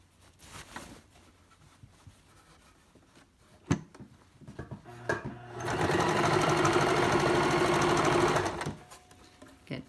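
Sewing machine stitching elastic onto a shirt-extender skirt, with scattered handling taps and thumps before a loud, steady motor whir that runs about three seconds and then stops, close and with no voices.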